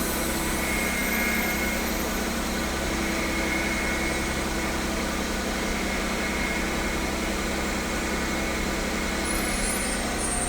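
A Jaguar XJS engine idles steadily with a constant broadband drone and no breaks; the car is a right-hand-drive to left-hand-drive conversion, and the exhaust on one side has been disconnected.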